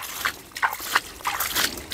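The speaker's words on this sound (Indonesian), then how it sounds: "Nah, kita siram-siram." Water splashes and drips in a series of short, irregular bursts while garden plants are watered, fairly close and moderately loud, with brief quiet gaps between pours.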